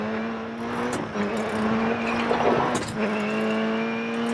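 The Subaru Impreza WRC2001 rally car in DiRT 4 drones at steady revs, its engine note dropping twice with gear shifts and a burst of gravel and tire noise during a slide.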